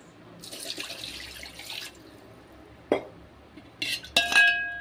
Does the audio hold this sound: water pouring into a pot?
yes